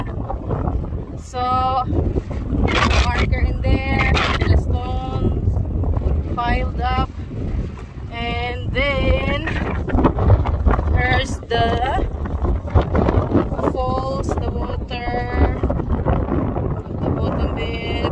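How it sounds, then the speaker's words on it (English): Strong wind buffets the microphone with a constant roaring rush on a Scottish Highlands mountain summit while people talk loudly over it throughout. "It's so windy."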